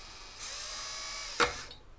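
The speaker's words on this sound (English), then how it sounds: "we're going to have to step drill this a little bit here" A step drill bit grinds into hard metal while working on a broken tap or bolt, a steady high whine that runs for about a second before a sharp loud bite near the end, then trails off as the bit stops.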